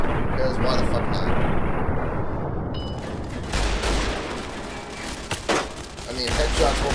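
Gunshots in the video game Fallout: New Vegas, dense bursts of rapid fire and booming impacts running through most of the clip alongside other game sounds.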